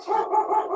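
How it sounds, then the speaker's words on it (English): A pet dog gives a short, close, loud vocal burst, a whining bark-howl lasting under a second with no talk over it. "And excuse my dog"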